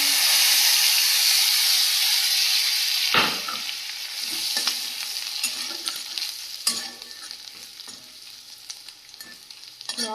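Dried chilli, bay leaf, cumin, ginger and garlic hit hot oil with a loud burst of sizzling that settles into steady frying, with occasional stirring clinks and crackles.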